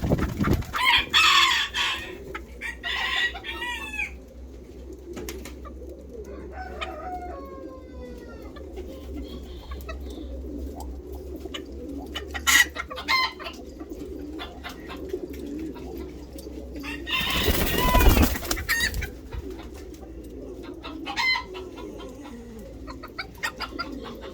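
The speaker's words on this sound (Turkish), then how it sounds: "Malezya Serama Tavuğu yumurtlar durumda. Horoz da eşler durumda." Small Malaysian Serama chickens cluck and a Serama rooster crows amid a busy mix of bird calls and cooing, with a loud burst of noise partway through.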